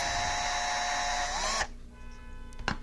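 A small numbered drill bit, size 43, bores into a modern Hot Wheels die-cast car for a screw; a steady, close high-pitched whine runs for about a second and a half, then cuts off into quieter bench noise with a faint click.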